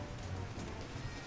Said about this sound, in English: It's raining around here.